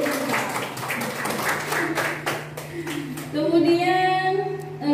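A group at a teachers' training session claps for a few seconds, a scattered burst of applause mixed with talking voices, followed by a brief tonal sound.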